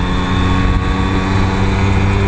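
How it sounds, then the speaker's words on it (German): A tractor hauling liquid manure rolls along a country road, giving a loud, steady engine drone with a humming, tonal throb that holds evenly throughout, with no voices. "Traktor, der hier lang kam"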